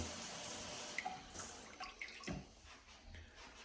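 A bidet wash function sprays water in a bathroom, a soft, steady hiss and trickle with a few faint drips and splashes, fairly quiet throughout.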